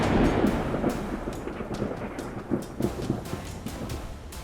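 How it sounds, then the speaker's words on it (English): Power lines spark with loud bangs close to a home during heavy rain, sharp cracks and crackling bursts rising over a steady wash of downpour. "During heavy rain, a loud bang rings out as power lines spark dangerously close to a home."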